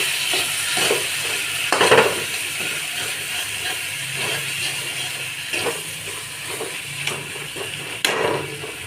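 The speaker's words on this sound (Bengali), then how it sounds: "দিয়ে ভালো করে নাড়ব।" Tomatoes are stirred into fish curry in a pan, giving a steady sizzle and hiss with scattered scraping stirs and clicks of a spoon against the pan.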